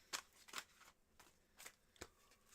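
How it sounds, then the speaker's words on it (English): Tarot cards shuffled in several quick riffling bursts separated by brief pauses, close and fairly quiet, with no talking. "Let me get the shuffles out of the way."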